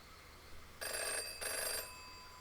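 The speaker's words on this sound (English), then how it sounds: "My deathly nap was cut short by the phone nearby." A telephone rings in the video game Red Embrace: Hollywood, two short bursts of a bright electronic bell ring with a brief gap between them, faint and alone over low background hiss.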